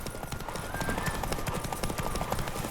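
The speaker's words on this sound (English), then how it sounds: "You can hear the horse getting tired." Horse hooves clip-clop in a rapid galloping rhythm during a race lap in The Witcher 3: Wild Hunt, fairly faint and steady under game sounds, with no voices.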